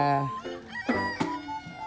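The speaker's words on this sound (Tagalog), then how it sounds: "Ito yung mga manok nila." Chickens clucking close by, a few short squawky calls with a brief crow-like cry, heard on their own for a couple of seconds.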